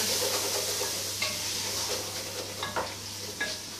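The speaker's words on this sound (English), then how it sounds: "Come back over to the pan and give it a stir." Steady sizzling of food frying in a pan, with a few soft scraping stirs of a utensil breaking through; no talking.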